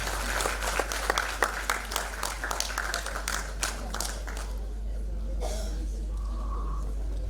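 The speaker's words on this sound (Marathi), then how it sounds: "टाळ्या होऊन जाऊ द्या त्यांच्यासाठी" Audience applause at the Maharashtra Ratna award ceremony in Pune, rapid crowd clapping that is loud at first and then thins out and fades after about five seconds, leaving a low hum and faint room noise.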